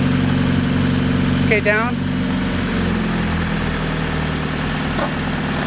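A car engine converted to run on hydrogen idles steadily, its low hum dropping slightly as the idle is lowered, while someone speaks briefly over it.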